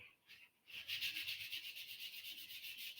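Wood on a banjitar being restored is smoothed with 400 grit sandpaper: a brief stroke, a pause, then quick, even back-and-forth rubbing strokes, close and fairly quiet.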